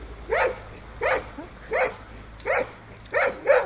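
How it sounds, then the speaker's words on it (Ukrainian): Guard dogs on chains at a boiler house bark in six loud, evenly spaced bursts close by, each bark sharp and slightly yelping, with a low steady hum underneath and no talking. "В ланцах пси."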